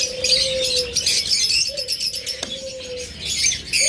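Pet birds such as lovebirds, budgerigars, cockatiels and finches in a breeder's cages chirping and tweeting continuously, with bright overlapping calls, a few whistled notes and occasional wing flutters close by.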